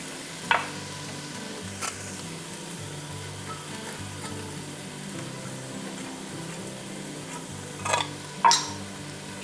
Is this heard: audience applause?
no